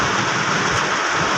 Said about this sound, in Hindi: साउंड इतना तेज़ है बारिश का।